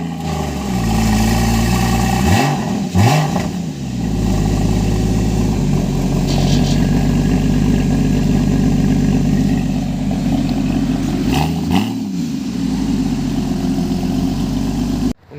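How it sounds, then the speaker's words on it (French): A 2015 Porsche Cayman GTS flat-six runs loud and close, holding a steady idle broken by two quick throttle blips that rise and fall, with no talking. "le bruit du Cayman GTS du Flat 6 qui est fou, ça hurle"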